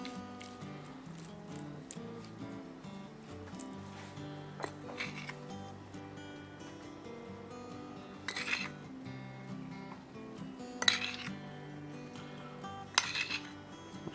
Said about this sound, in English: we're going to mix it up just to coat it really well